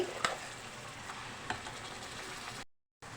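A spice paste fries in oil in a pan for a cauliflower curry, giving a faint, even sizzle with a couple of light utensil taps, close by, then cutting briefly to silence near the end.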